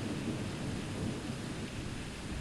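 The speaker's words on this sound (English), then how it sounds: "It probably wouldn't be safe to out in this rain." Rain and thunder from the zombie-apocalypse video game Corpse Collector fill the clip with a steady, dense rain hiss and a low rolling rumble throughout, at moderate loudness, with no voices.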